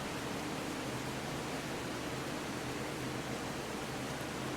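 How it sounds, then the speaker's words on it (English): Heavy rain pouring down outside, a dense, even, unbroken hiss of steady volume throughout with nothing else standing out. "It just started downpouring."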